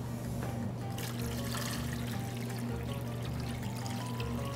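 Water pours steadily into a sugary, alcohol-based pickling liquid for ramps, a continuous close trickle and stream over a low kitchen hum, with no voices.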